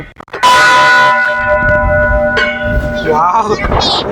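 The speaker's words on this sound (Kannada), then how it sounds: "ಗಂಟೆ ಹೊಡೆದಾಗ ಕೆಳಗಡೆ ಗಂಟೆ ಕೇಳಿಸುತ್ತೆ ನಮಗೆ" A Jain temple bell rings out close and loud with one bright, sustained clang that hums and slowly fades, and a second strike follows about two seconds later. People can be heard talking faintly in the background.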